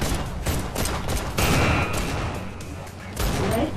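Rapid bursts of weapon fire from Hyper Dash, a VR shooter game, crackle through dense continuous noise, loud and busy, with brief pauses and no talking.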